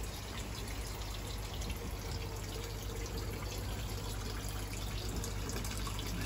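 White spot treatment poured into a garden pond, a steady, continuous wash of liquid splashing into water, moderately quiet and uninterrupted, with no talk.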